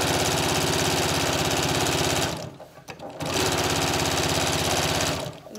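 A sewing machine topstitches a Yup'ik qaspeq, a loud, fast, steady mechanical hum that stops for about a second midway and then runs again before trailing off.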